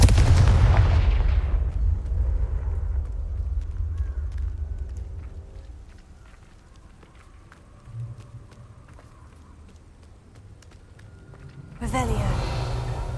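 A Confringo explosive spell goes off in the video game Hogwarts Legacy, a loud booming blast that fades into low rumbling, with a second burst near the end.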